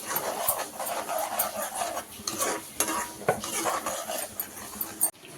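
Ginger garlic paste fries in a pan with uneven bursts of sizzle and scraping as it is stirred, punctuated by sharp knocks of the utensil against the pan, ending on a louder clank.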